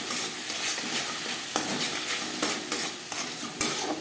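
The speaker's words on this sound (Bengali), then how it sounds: "কাঁচা গন্ধ যাওয়া পর্যন্ত নাড়াচাড়া করে নেব।" Salted green chilli paste sizzles in a hot pan while a spoon stirs and scrapes it in quick, repeated strokes, close and fairly loud with no voices.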